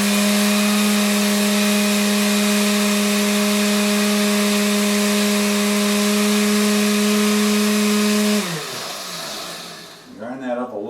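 An electric grinder drones loudly and steadily as it grinds venison sausage mix with fennel seeds, humming with a strong motor tone before winding down near the end, followed by brief handling noise.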